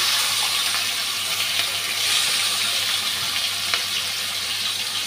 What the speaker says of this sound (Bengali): এখন চিংড়ি মাছগুলা হলুদ নুন দিয়ে মেখে ভেজে নিচ্ছি।